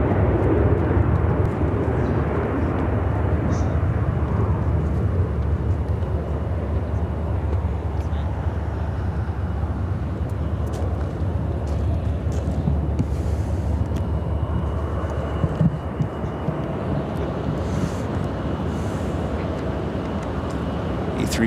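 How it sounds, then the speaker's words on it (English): An Austrian Airlines Boeing 787-9 Dreamliner bound for Vienna takes off at Chicago O'Hare, a steady loud low jet roar with broadband rumble that holds constant and slowly shifts in tone. "Austrian Flight 66 taking off to Vienna on the"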